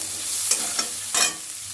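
Onion frying alongside chicken in a pan, with a steady low sizzle broken by three short scraping stirs, close and fairly quiet, no talking.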